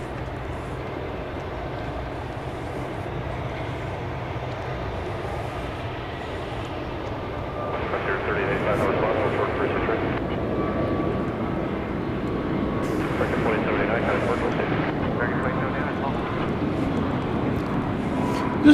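Fiji Airways airliner on the runway at DFW Airport at night, heard as a steady distant jet engine rumble that swells and fades, with faint higher whines drifting in and out.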